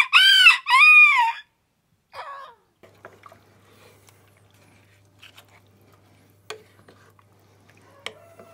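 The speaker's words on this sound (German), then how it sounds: "Oh, die Hähne, die schreien ja um die Wette." Two roosters crow loudly one after another near a kitchen where a beef and vegetable stew is being cooked, followed by a shorter, softer crow and then quiet clatter and faint rustling.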